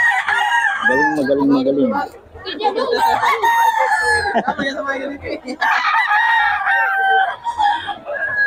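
Gamefowl roosters offered for sale at a Bocaue market crow loudly and repeatedly, close by, with clucking between crows and someone speaking briefly over them.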